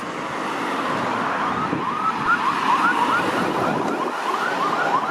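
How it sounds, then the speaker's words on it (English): An ambulance siren wails steadily while the vehicle responds along a suburban road in Richmond Hill, Ontario, its rising and falling tone running through the whole stretch over constant traffic rumble, fairly loud and close. "there's an ambulance responding"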